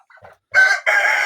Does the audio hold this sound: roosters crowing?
yes